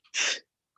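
A single short, sharp sneeze, close and fairly loud, followed by a brief start of another sound.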